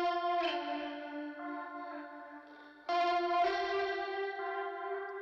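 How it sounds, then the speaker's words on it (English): Sustained distorted guitar notes with a delay throw panned hard right, repeats trailing behind each held chord, a new chord striking near the middle, moderately quiet and without voices. "This is just a print panned all the way to the right, and it's a delay throw."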